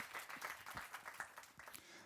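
Audience applause for Dušan at a creative mobility forum, a steady patter of many hands clapping at a fair distance, lasting about two seconds.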